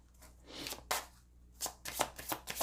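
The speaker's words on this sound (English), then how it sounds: "I'm actually going to shuffle them back here" Tarot cards are shuffled by hand in several quick riffling bursts of papery flicking and slapping, close and fairly quiet, with brief pauses between the bursts.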